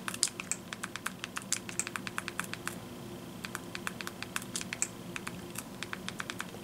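Keys clatter in a fast, steady run of taps as a search is typed out. The typing is close and crisp over a faint background hum, with a short pause in the middle and no speech.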